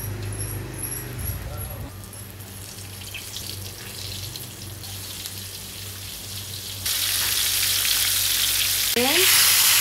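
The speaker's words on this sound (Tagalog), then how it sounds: "Prito na natin itong isda." Tulingan (bullet tuna) frying in a pan: a constant sizzle that suddenly swells into a louder, hissing crackle partway through, close up with a few brief clinks.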